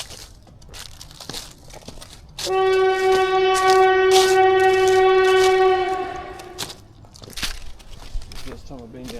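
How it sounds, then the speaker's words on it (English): A train blows a loud, sustained horn as it nears a wooded trail, the blast holding steady for about four seconds over the rumble and clatter of passing cars, with fainter rail noise before and after. "A little bit worried about a train coming, but I think it'll be alright."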